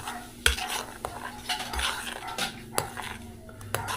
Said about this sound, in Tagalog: Tapos ating halo-haloin.